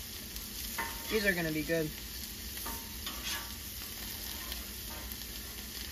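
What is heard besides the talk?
northern pike fillets frying in a pan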